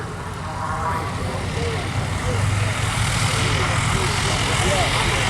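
Aircraft engine running on the runway at the RAF Cosford Air Show, a steady loud drone held throughout with a public-address voice talking over it.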